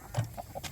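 A chicken gives a few short, soft clucks in quick succession, close by and fairly quiet.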